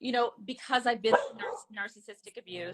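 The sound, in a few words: dog barking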